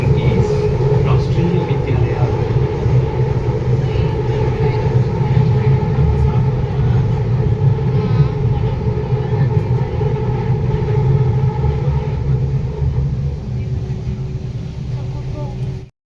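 A Bangalore metro train at a station platform, heard as a steady loud rumble with rail noise throughout, and voices talking in the background.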